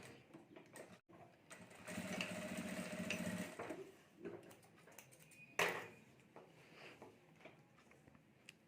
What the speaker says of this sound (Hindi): यहाँ ऊपर रखकर हमें सिलाई कर देनी है।